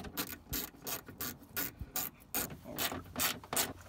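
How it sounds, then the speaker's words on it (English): A ratchet clicks in repeated quick bursts while tightening the bolts on a Ford Crown Victoria side mirror during a heated mirror install, the pawl clattering close and fairly loud with short pauses between strokes. "We will add the bolts just like we took them off."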